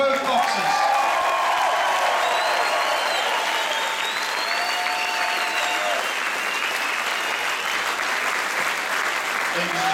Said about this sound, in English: A big round of applause, please, for both boxers.